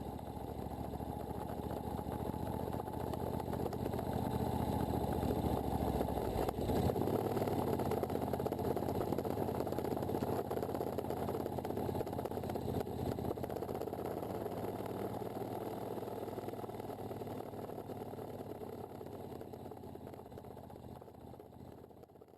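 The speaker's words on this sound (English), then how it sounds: "I headed back into the bush on the Mayo Lake Road" A 1972 Moto Guzzi Eldorado motorcycle rumbles steadily on a rough forest trail, its engine a continuous low drone that swells slightly midway and eases off toward the end, with no talking.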